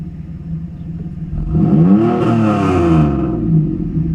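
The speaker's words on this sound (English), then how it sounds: "Still idling somewhat fine, which has an annoying random idle at times" A car engine with a manifold gasket just replaced and lean-running fault codes runs steadily, its low rumble swelling midway as the revs rise briefly, then settling back to a rough, occasionally erratic idle.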